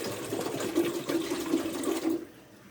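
Steady stream of water running into a cooking pot with washed pork for broth, a continuous splashing hiss lasting about two seconds before it stops, close and fairly loud.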